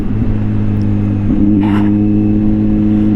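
2023 Kawasaki ZH2 motorcycle cruising on cruise control, a loud steady engine drone with a brief pitch step midway and a faint electronic chirp.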